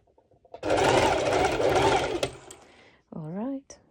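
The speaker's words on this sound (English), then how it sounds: "do a straight stitch over my shoulder part" A sewing machine runs a straight stitch on a top's shoulder seam, a steady close buzzing whir for about one and a half seconds that fades out, followed by a brief spoken word.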